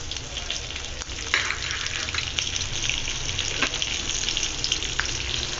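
Green chillies, onions and vegetables fry steadily in hot oil for a dum biryani, a dense continuous sizzle with occasional stirring scrapes, close and loud with no talking.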